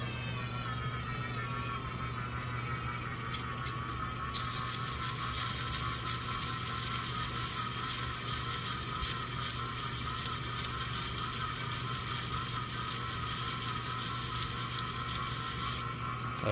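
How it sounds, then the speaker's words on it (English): A variable speed AC motor spinning steadily during cleanup of JB Weld in the restoration of an 1895 Crocker-Wheeler bipolar fan motor, a constant mechanical whir with a faint ratcheting texture that brightens partway through, no speech. "One nice thing about having a variable speed AC motor, you just dial that down a little bit."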